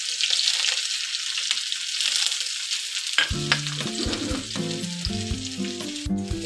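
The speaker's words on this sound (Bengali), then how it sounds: "এবার আমি আদা রসুন কুচিটাকে 2-3 মিনিট ভেজে নেব" Chopped ginger, garlic and green chillies frying in oil, a close steady sizzle throughout, joined halfway by a tonal background melody.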